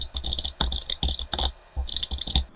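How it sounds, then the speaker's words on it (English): Typing on a computer keyboard, close rapid clusters of crisp key clicks in quick bursts with short pauses between them, no talking. "You're going to type in const ID"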